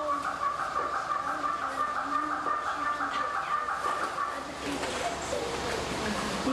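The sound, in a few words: bossy red bird calling in the background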